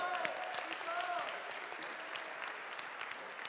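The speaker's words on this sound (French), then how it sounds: "on peut applaudir" Audience applause fills a gaming event hall, a steady dense clatter of many hands clapping close by, with faint voices mixed underneath.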